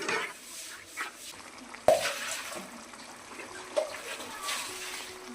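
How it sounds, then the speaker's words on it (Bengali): Chicken being stirred with spices in a hot pan for Bengali-style chili chicken, soft sizzling under scraping spatula strokes and a sharp metallic clank, close, with a voice talking over it. "যতক্ষণ না মশলাটা কষানো হচ্ছে ততক্ষণ মাংসটাকে নাড়তে হবে।"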